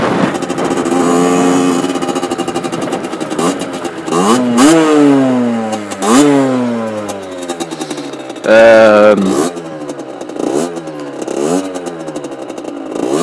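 A loud motorcycle engine revs and drops repeatedly nearby, pitch sweeping up and down, with a voice talking over it.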